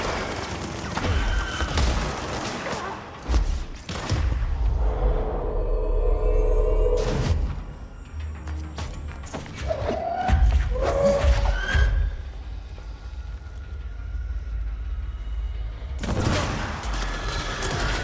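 Sniper gunfire in the Control video game cracks in scattered heavy shots with rumbling impacts and whooshing effects, some close and loud, spread across a tense firefight.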